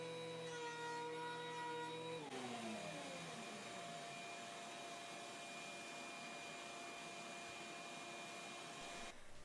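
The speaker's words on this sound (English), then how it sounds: "Now I will run the whole board through the planer on both sides to make sure everything is nice and smooth." A planer runs a wooden board through, first a steady motor hum with tonal whine that drops in pitch as the blades load up, then a loud, continuous broadband roar of cutting that carries on for several seconds, close and alone.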